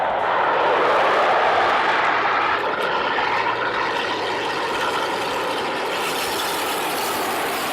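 A deafening water bomber aircraft roar fills the clip, loud and continuous as the low-flying plane passes close overhead, with a slight rise then steady rumble.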